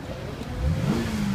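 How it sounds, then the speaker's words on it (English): A 2014 Cadillac XTS V-Sport engine runs with a muted, smooth hum, rising slightly in pitch midway as it revs gently, quiet and close without any talk. "Especially when you have an engine that sounds like this."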